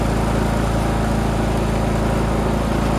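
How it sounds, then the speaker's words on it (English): A Powersmart portable generator running under an electrical load, a loud, steady, buzzing engine hum at close range with an unchanging pitch and no talking. "So this will throttle up by itself because it needs to go faster to generate enough electricity for this."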